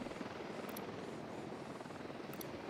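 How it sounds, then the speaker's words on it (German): A helicopter in the video game Ghost Recon Wildlands makes a steady, continuous rotor and engine drone at moderate distance, holding an even level throughout with no talk over it. "Da ist auch übrigens ein Heli."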